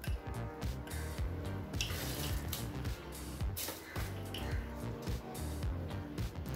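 Three cups of water poured into a pressure cooker with soaked basmati rice for tomato biryani, giving a close, continuous splashing trickle with small drips and clinks throughout.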